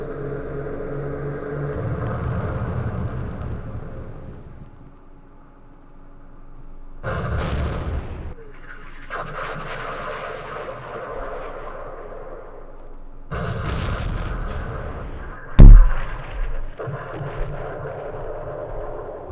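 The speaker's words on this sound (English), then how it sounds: "We missed with this airstrike." Airstrike explosions in the Vietnam war game Campaign Series Vietnam, Battle of Mao Khe: heavy rumbling blasts come in separate bursts, followed by one sharp, loud crack near the end.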